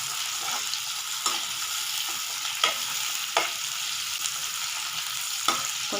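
Onions sauteing in a pan for a mushroom masala gravy give a steady, close sizzle, with a spatula stirring through it every second or so.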